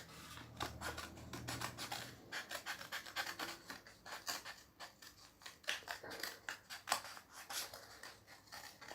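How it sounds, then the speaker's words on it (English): Scissors snip through a cardboard tube in repeated short, close cuts, with crunchy rasping and scraping as the blades work around the curve, fairly quiet and steady. "Now I'm going to actually cut all the way up here to about there and cut around this way."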